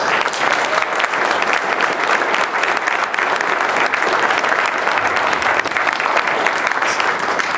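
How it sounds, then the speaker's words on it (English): Dense, steady audience applause fills a university hall after a film screening and post-film discussion, sustained and loud from start to finish with no break, honouring a woman who shared her personal story. "can we just give her one more round of applause?"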